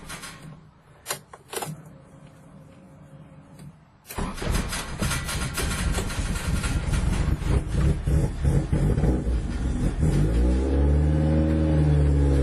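A 1989 Honda Civic hatchback starts up after a few quiet clicks and handling noises: the engine abruptly cranks and catches, then runs loud and close with a steady, slightly rising idle.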